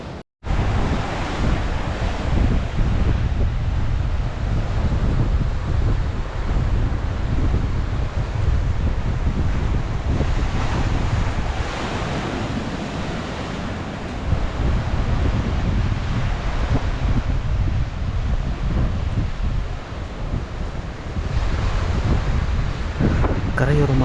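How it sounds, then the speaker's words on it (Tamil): Powerful ocean surf pounds the shore below Varkala cliff beach in Kerala, a continuous loud roar of crashing waves mixed with heavy wind buffeting the microphone for the whole stretch. "அலை வந்து பயங்கர ஃபியர்ஸாக வரும் இங்கே"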